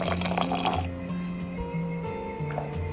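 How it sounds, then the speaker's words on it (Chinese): Water is poured into a cup holding two pieces of homemade ginger candy. It makes a short, close filling and trickling sound that fades into faint drips. "可以加入2颗到杯子里面，用水冲着喝也非常的不错"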